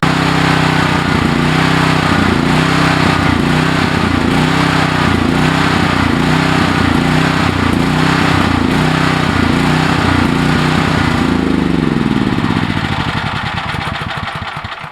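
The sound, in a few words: small engine started with a key and running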